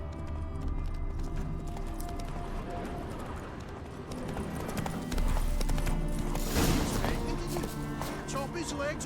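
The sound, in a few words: horse hooves galloping in video game The Witcher 3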